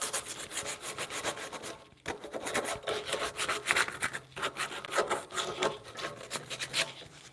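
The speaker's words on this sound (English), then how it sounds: "Let's take some sandpaper to that." Sandpaper rubs back and forth across timber on a timber-framed bunk bed, a close, steady rasping in quick strokes with a short pause near the start, no voices.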